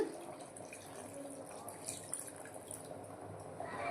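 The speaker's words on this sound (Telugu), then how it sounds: "ఇప్పుడు ఇందులోకి వాటర్ పోసుకుంటున్నాను" Water is poured into a pot of country chicken curry on the stove, making a steady, soft splashing that runs for a few seconds, close by.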